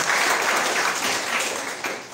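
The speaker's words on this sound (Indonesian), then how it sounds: "Tepuk tangan untuk kita semuanya." Audience applause at a closing ceremony for a civil servant basic training course, a dense, steady wash of clapping from a large crowd that holds loud throughout with no voices over it.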